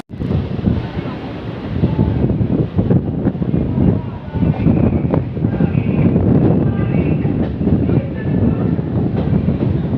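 A Chennai EMU local train runs on the Beach to Avadi line out of Ambattur, its continuous heavy rumble mixed with loud wind buffeting against the microphone throughout.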